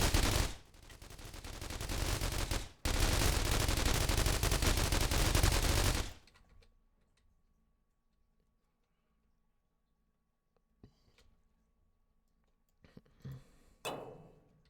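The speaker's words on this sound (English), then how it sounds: "God, these turrets are so fucking loud." Automated turrets in the video game The Walking Trade fire long, loud continuous bursts of rapid gunfire for several seconds, briefly breaking off once, then fall quiet before a few scattered faint thuds and a short louder burst.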